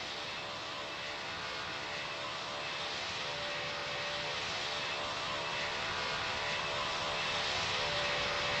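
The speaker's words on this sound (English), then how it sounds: "you are cleared to take off from runway 16" A jet airliner in Pilot Training Flight Simulator powers up for takeoff, a loud, steady engine roar that swells gradually over several seconds with no break and no voices.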